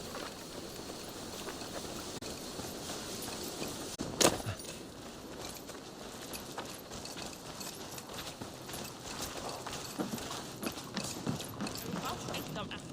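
Horse hooves clip-clopping in the Viking-era video game Assassin's Creed Valhalla, a soft, continuous rhythmic patter mixed with faint mechanical clicks and jingling tack, with one louder knock near the middle.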